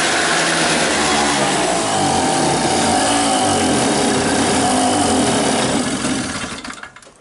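A cheap $5 portable generator engine runs loud and close with a steady buzzing drone, then winds down and dies away near the end.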